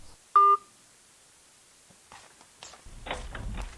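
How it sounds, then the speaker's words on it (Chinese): A single short telephone keypad tone sounds once, then quiet handling, a soft clunk and rustling movement follow nearby. "大清早的，给谁打电话呢？"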